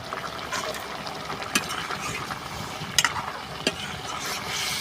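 Rohu fish curry with bottle gourd is stirred in a pan: a steady close sizzle runs throughout, broken by a few sharp scraping clicks of the spatula against the pan.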